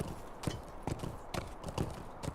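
A video-game horse backing up, its hooves clip-clopping in a quick, regular beat of sharp close hits, clear and alone with no talk over them.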